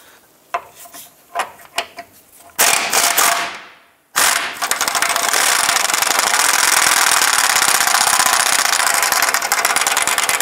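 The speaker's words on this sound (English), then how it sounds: "We're going to use 18 millimeter wrench on the top and an 18 millimeter socket on the bottom." Ratcheting and grinding metal noise as an 18 mm wrench and socket loosen a lower control arm bolt on a 2008-2013 Nissan Rogue, a few short scrapes then a long continuous loud rasping run.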